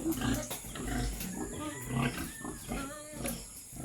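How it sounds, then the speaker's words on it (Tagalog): Pigs grunt and squeal in a pen on a rural provincial farm, several close animal calls in irregular bursts, with people talking faintly in the background. "Ito yung mga baboy sa bahay."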